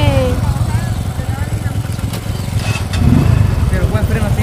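Small motorcycle engine running on a hilly outdoor road, a steady chugging putter throughout that rises slightly near the end, heard close and loud with people talking over it.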